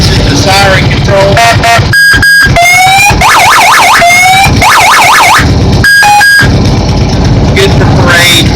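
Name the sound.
siren on a Carter Brothers mini monster truck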